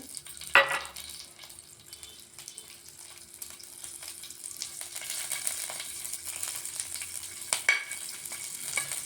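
Green chilies sizzle in a pan of hot oil while they are stirred. Soft scrapes and a steady frying hiss run throughout, with a couple of sharper clinks.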